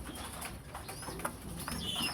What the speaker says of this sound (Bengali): এগুলো আমার খুবই পছন্দের কবুতর, সিলভার গ্রিজেল